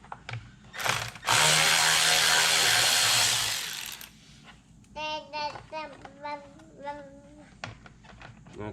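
A power tool whirs loudly for about three seconds while screws are backed out of fang lights during an off-road light bar install, followed by a person talking in the foreground.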